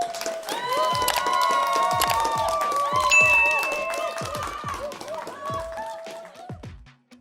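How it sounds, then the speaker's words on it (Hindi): Children's applause and cheering rise together in a dense, lively burst of clapping and excited voices, loud and close, before fading out near the end. "एक बार ताली बजा दीजिए"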